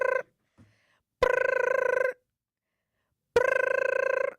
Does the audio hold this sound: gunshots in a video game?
no